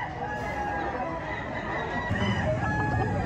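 Gamecock stag or rooster clucking with short crow-like calls amid a busy poultry setting in Lipa City, Batangas, steady background chatter and noise throughout.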